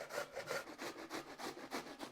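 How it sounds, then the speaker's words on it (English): A large beefsteak tomato, halved, is rubbed against the coarse holes of a box grater, giving repeated rasping strokes in a steady back-and-forth rhythm, close and fairly quiet, with no talk. "I'm going to grate the tomato."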